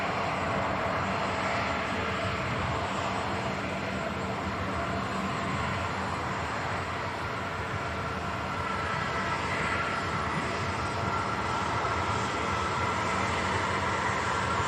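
Pegasus Boeing 737 arriving from Istanbul at Manchester Airport, a steady, fairly loud engine roar that holds throughout, broadband and unbroken with wind, no voices.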